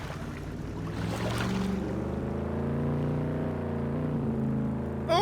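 A 1959 car in Farming Simulator 22 cruises across a bridge over the Mississippi, its engine a steady low drone with layered harmonics, loud and continuous and alone, with a brief rise at the very end.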